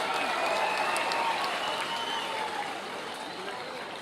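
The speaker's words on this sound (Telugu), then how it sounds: "అవును అనుకుంటే గట్టిగా చప్పట్లు కొట్టాలి." A crowd at a political rally applauds loudly, a dense continuous wash of clapping that stays strong and slowly eases toward the end.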